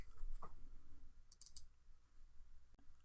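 Sharp computer mouse clicks while working in 3D modeling software, a quick cluster of clicks near the middle and a single click later, close and distinct against a quiet background.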